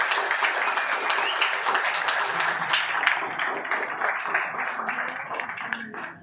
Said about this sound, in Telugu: we must give a big round of applause